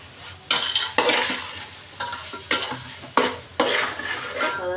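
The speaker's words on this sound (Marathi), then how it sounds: "आता गॅसची फ्लेम परत फास्ट करायची आणि मसाला पण चांगला सोटवून घ्यायचा." Masala for dry mutton fries on a high flame while being stirred hard, with a series of loud rhythmic spatula scrapes about every half second over a bright, constant sizzle.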